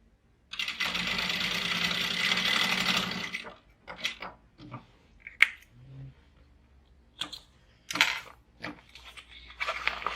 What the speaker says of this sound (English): we're going to sew those at 1/2 inch